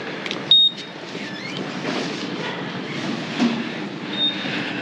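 Subway train ride heard from inside the car: a steady low rumble of rolling wheels, brief high squeals and tones cutting through, and occasional clunks over about five seconds.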